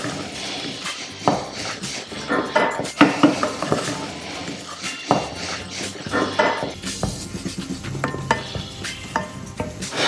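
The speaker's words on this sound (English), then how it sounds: "And then we want to give it a good stir, making sure that we cook out all of the flour." A butter and flour roux stirred in a pan as it cooks, with repeated scraping and clinking of a utensil against the pan over a soft, continuous sizzle.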